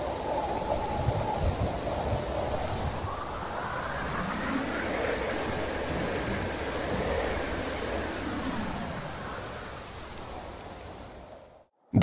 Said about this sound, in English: the rain ambience from the second area is evolving following the kite's speed. The higher the speed, the higher the pitch.